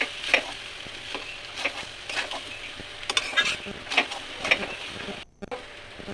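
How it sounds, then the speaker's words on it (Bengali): Soaked rice and lentils with salt are stirred in a wok for vegetarian khichuri, with repeated rhythmic spatula scrapes over a soft background sizzle. "ভালো করে নাড়াচাড়া করে নিতে হবে যাতে কড়াইয়ের গায়ে যেন না লেগে যায়।"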